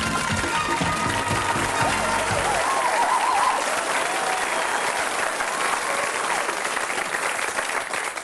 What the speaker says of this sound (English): that applause is not for me